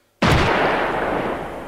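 A single sharp, loud gunshot in the turn-based game Jagged Alliance 2 Wildfire, starting abruptly and trailing into a long noisy decay with no voices.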